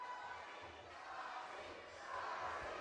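Wrestling crowd at an indie event cheering behind Robbie McAllister, a steady, dense roar of many voices that swells slightly near the end, with no clear speech over it.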